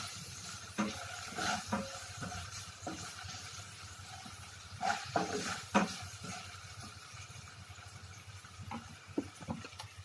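Potato pieces for sabudana khichdi fry in oil in a pan, giving a quiet steady sizzle broken by soft scraping stirs and clinks at irregular intervals.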